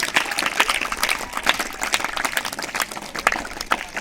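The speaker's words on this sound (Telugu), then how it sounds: "ఒకసారి క్లాప్స్ కొట్టరా మీ సిబ్బందికి ఎలక్షన్ స్టాఫ్కి అందరికీ" Applause from a school crowd for the election staff at a mock school election, steady, brisk clapping from many hands continuing throughout, moderately loud with no talk.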